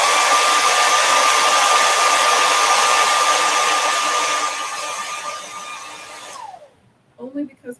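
A heat tool blows steadily to warm stiff wax on a wooden craft tray, giving a loud, even airy whoosh with a thin whine that drops away as it switches off, followed by a few soft handling sounds.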